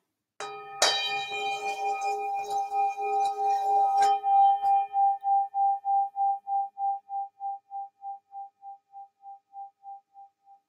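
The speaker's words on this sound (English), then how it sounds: "This is another one of my bowls. This one's probably about 100 years old." A roughly 100-year-old singing bowl is struck and rung, its clear tone swelling and then pulsing in a slow, regular beating wobble that fades gradually over several seconds.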